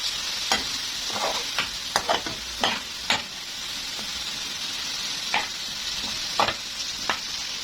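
Vermicelli with onions is stirred in a pan on the stove, its water cooked off, under a constant close sizzle with about a dozen sharp scraping clacks of the utensil at an uneven rhythm.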